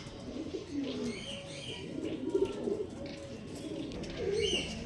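Close Andhra Madras pigeons give low, rolling coos in overlapping bursts, with brief higher chirps and a steady murmur of the flock beneath.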